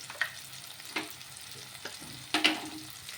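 Spices frying in a pan for an egg and moong dish, soft sizzling with a few scraping stirs of a spoon against the pan, close and moderately loud, no talking.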